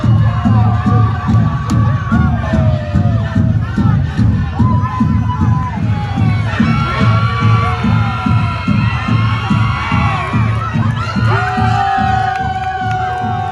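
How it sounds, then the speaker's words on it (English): A loud boxing arena crowd at a Thompson Boxing card roars and cheers continuously, a dense wall of shouts and whoops with rising yells swelling near the end. "Do you guys hear how loud that crowd is, man?"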